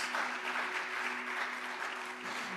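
A Good Friday church congregation applauds steadily, a broad wash of clapping from many hands filling the room, with a faint sustained tone running underneath.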